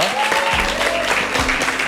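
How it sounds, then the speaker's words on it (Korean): Audience applause at a televised K-pop trainee ranking announcement, steady clapping throughout with tonal music and some voices mixed in underneath. "큰 박수 보내주시기 바랍니다"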